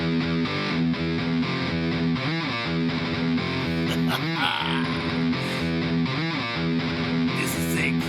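Heavily distorted metal guitar plays a tightly layered arrangement, chugging in triplets with punchy offbeat chords locked to drums, loud and continuous throughout.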